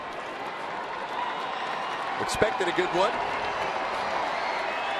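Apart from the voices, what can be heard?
baseball crowd cheering and applauding at the ballpark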